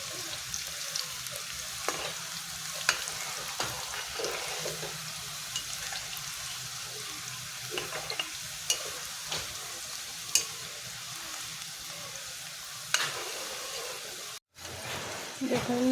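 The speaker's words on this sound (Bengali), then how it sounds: "এইভাবে এক এক করে সবগুলোকে আমি ভেজে নেব।" Nimki pieces made from flour dough fry in white oil, giving a steady low sizzle throughout with occasional scraping and clinking of a utensil as the pieces are turned, fairly quiet and without talk.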